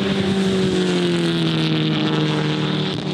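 A black BMW and a Seat supercar race past at Assen, a loud sustained engine roar with a slowly falling pitch as the cars pull through the fast section.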